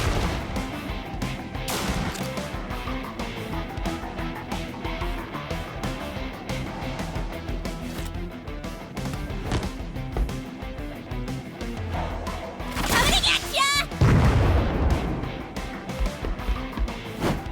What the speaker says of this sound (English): Jinx is throwing her explosives around